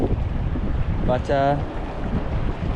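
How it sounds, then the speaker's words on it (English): Cold wind gusting outdoors at a lake during spring bass fishing, a steady, loud, buffeting rush across the microphone that runs throughout, with a brief spoken word partway through. "it is very cold and windy out here"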